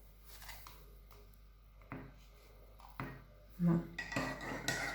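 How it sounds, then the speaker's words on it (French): A spoon stirs yeast and butter into lukewarm water in a bowl, making light scattered clinks and scrapes with a louder knock near the end, quiet and close. "Bien mélanger."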